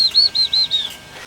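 Small birds chirp near a boat's cockpit: a quick series of five bright, clear tweets in a steady rhythm, close and distinct against a quiet background.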